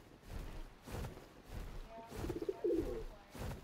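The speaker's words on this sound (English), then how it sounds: "A terror bird." A terror bird call in a video game, low cooing, hooting notes that repeat at intervals over soft background ambience, with no speech.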